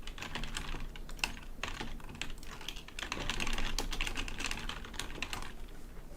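Rapid, uneven clatter of typing on a computer keyboard continues throughout at moderate volume, with no talking.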